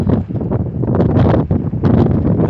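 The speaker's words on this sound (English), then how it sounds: "I've been in worse wind than this" Strong outdoor wind under cloudy skies buffeting the microphone in loud, rumbling gusts that rise and fall without pause.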